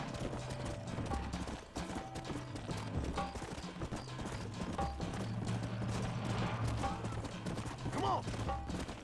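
Horses gallop in the Red Dead Redemption video game, their hooves clip-clopping in a steady, fairly loud rhythm mixed with other dense game sounds.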